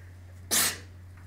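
A single sharp human sneeze bursts out near and loud, lasting about a quarter second, in an otherwise quiet indoor room with a steady low electrical hum.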